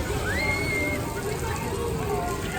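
Water sprays and splashes steadily at the Casey Jr. Splash and Play water play area in Magic Kingdom, a continuous hissing patter like rain, with a brief whistle-like tone and a voice talking over it.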